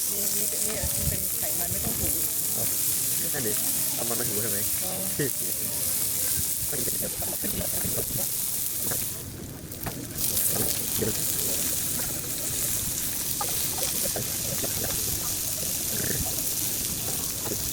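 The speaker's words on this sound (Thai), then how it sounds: "เสียงจีๆนี่มันชวนหิวยามค่ำคืนตอนตัดคลิปจังเลยครับ" Pork sizzles and crackles loudly on a grill in a restaurant on Jeju, a constant hiss with popping, while people talk nearby.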